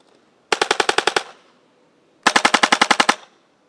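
Dangerous Power FX Fusion toy blaster firing on full auto: two loud, close bursts of about eight to ten rapid electronic shots each, separated by a second of near silence.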